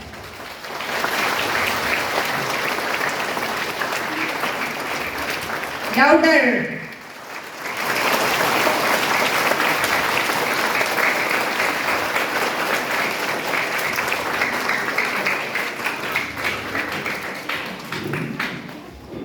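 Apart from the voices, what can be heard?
audience applause for Father at school event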